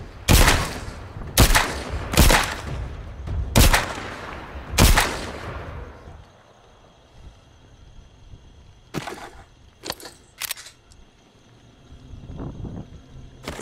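A gun firing in The Walking Dead: Saints & Sinners: five loud, sharp shots in fairly quick succession, then a quieter stretch with a few lighter, clicky impacts and rustles, with no talking.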